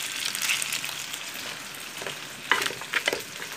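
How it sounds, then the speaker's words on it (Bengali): Rohu fish fries on a stovetop with a continuous moderate sizzle and crackle, punctuated by a few brief sharper spatters near the end. "আর এই চুলায় আমার মাছ ভাজা হচ্ছে, রুই মাছ।"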